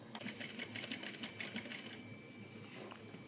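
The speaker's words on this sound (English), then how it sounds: "I'll do a few back stitches just to be safe here." A sewing machine stitches a zipper pouch with a few back stitches, a fast steady mechanical whirring with rhythmic needle clatter, close and fairly quiet, easing off near the end, no talking.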